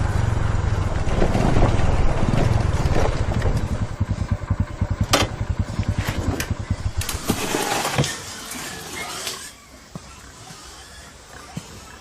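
A motorcycle with a starting problem runs loudly with a rapid, throbbing engine rumble for about eight seconds, then cuts out, leaving quieter background sound and brief voices.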